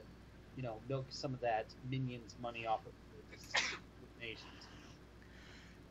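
A single sharp sneeze bursts out midway through a casual conversation about cartoon-based movies, standing out loudly over steady talking voices before and after it.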